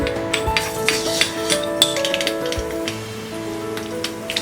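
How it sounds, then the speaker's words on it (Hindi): Mustard seeds spluttering in hot oil while cooking a Maharashtrian-style cauliflower sabzi, giving scattered sharp crackles and pops over a sizzling background, with a few louder snaps and no talk. "तेल गरम हो गया है। अब हम इसमें डालेंगे ये राई"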